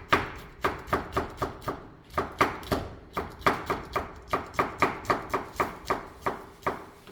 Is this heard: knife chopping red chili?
yes